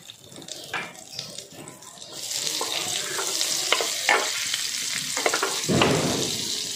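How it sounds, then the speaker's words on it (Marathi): Butter sizzles in a kadhai heated on a gas stove, a steady frying hiss that swells after a quieter start and holds with scattered crackles and a few sharp spatters. "इथं मी गॅसवरती कढई गरम करायला ठेवलेली आहे. त्यामध्ये सुरुवातीला बटर घालायचं आहे."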